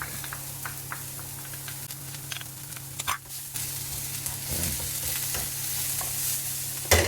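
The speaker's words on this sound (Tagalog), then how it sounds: "Add the garlic." Garlic frying in a pan for chicken caldereta gives a steady close-up sizzle with occasional stirring scrapes and a brief dip partway through, with no talking.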